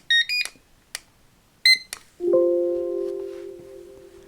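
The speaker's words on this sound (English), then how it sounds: "You'll hear a confirmation beep once the scan is successful." A few short high electronic beeps from a barcode scanner confirming a textbook scan, in quick succession, then a lower sustained tone that slowly fades away.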